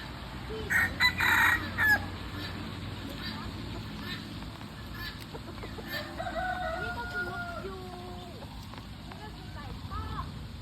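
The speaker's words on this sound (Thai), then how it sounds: "ในกรงนี้จะมีไก่เยอะ" Chickens in a zoo cage at a military camp zoo in Kanchanaburi, with a rooster crowing loudly near the start, then clucking and squawks from the flock while a person talks.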